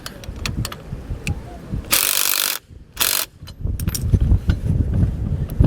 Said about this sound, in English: a 19mm socket and wrench to snug these down.